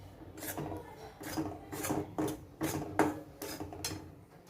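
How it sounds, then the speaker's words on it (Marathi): Flour being stirred and dry-roasted in a pan over low to medium flame for laddoos, a spoon scraping the pan in steady, rhythmic rasping strokes roughly twice a second, close and fairly quiet. "गॅस लो टू मीडियम फ्लेमवरती ठेवून हे पीठ भाजायचं आहे."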